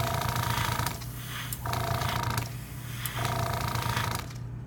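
Airbrush spray of Alclad metal-finish paint hisses in three or four bursts, each lasting about a second, with a steady mechanical compressor hum running underneath.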